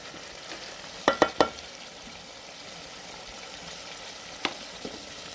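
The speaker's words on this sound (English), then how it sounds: "Our zucchini is here cooking well." Zucchini cooking in a pot over a village fire in Africa gives off a soft, steady sizzle. A quick run of spoon clinks against the pot breaks in, then one or two lighter taps follow.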